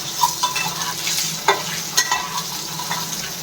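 Boiled eggs frying in hot oil with salt, turmeric and chili, a steady close sizzle with scraping stirring strokes and occasional spatula taps.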